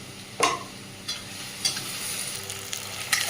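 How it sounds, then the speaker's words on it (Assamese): Spices with turmeric frying in hot oil, a steady close sizzle broken by several sharp scraping stirs of the pan, with no voices. "আৰু এইখিনি ভজা হৈ গ'ল, তেল ধৰিব ধৰিলে।"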